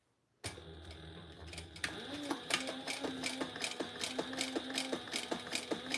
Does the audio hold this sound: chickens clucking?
no